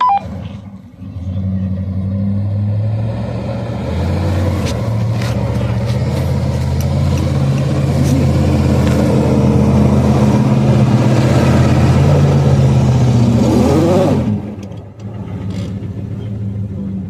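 A Lada Niva and a Jeep grind through a snowy canyon off-road, a loud engine droning and revving steadily close by for most of the stretch before dropping off near the end.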